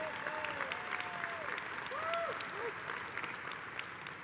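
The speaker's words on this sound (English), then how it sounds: "Please give Kelly a round of applause." A convention audience applauds Kelly Aiken with steady clapping at moderate distance, and a few faint whistles or voices cut through the crowd noise.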